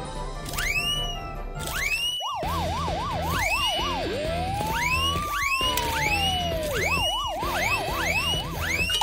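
Cartoon police cars and an ambulance wail with loud, continuous, overlapping sirens, rising and falling steadily and close by, with no talk.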